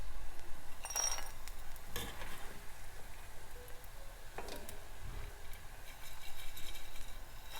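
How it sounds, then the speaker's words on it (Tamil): Masala-coated peanuts fry in hot oil, a constant close sizzle with occasional clinks and stirring clatter from a ladle or pan. "பாருங்கள், மசாலா கலர் நல்லா ஃப்ரை ஆயிடுச்சு."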